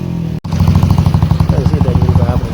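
A tractor engine at a wedding procession chugs loudly and close by in a fast, steady diesel putter, with brief voices mixed in.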